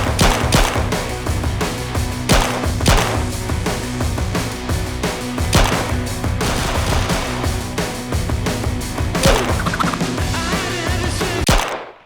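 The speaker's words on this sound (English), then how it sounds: "The sound of gunfire and shouting fills the air as Ivan and his gang engage in a fierce and" Sustained gunfire crackles in dense bursts, with sharp shots and booming blasts repeating loudly over twelve seconds before cutting off.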